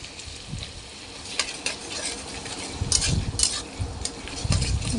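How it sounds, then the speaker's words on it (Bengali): Garlic paste frying with onions and a whole tomato in a pan sizzles steadily, with a utensil stirring and scraping in bursts. "বেটে রাখা রসুনটা পেঁয়াজের সঙ্গে দিয়ে ভালো করে ভেজে নেব"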